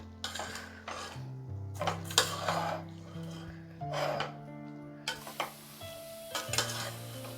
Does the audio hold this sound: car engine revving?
no